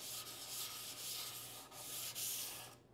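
Close sandpaper rubbing by hand in circular motions smooths the sassafras wood surfaces of a bench, a steady hissing scrub with slight periodic swells, stopping near the end.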